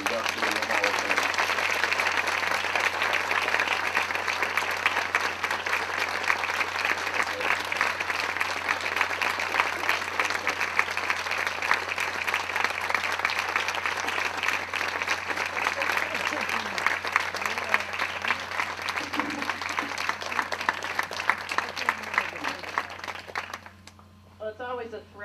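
A warm, sustained round of applause fills a hall for a Hall of Fame induction, with dense, even clapping for over twenty seconds that thins and fades away near the end.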